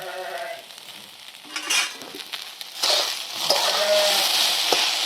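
Okra cooked for a fasting-day bhaji is sautéed with salt in a pan. Close sizzling and scraping stir strokes build in intensity, with a brief tonal squeak near the start.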